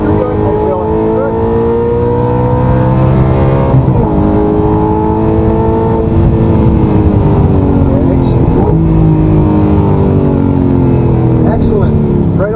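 An Audi R8 or Ferrari F430 race car on a wet track accelerates at full throttle, engine pitch sweeping upward through repeated gear pulls, loud and close, with an instructor's voice speaking over it.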